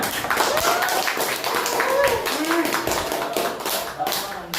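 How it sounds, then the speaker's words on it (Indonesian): A classroom of students claps together after finishing an activity, a steady patter of many hands right up close that runs the whole time, with voices talking and calling out over it. "Tepuk tangan untuk kita semua"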